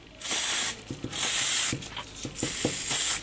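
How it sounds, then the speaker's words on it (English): Short bursts of clear lacquer spraying from an aerosol can onto flax seals, about three separate hissing sprays with faint clicks and handling noises between them. "Spray your seals like this, and it seals all the dust in"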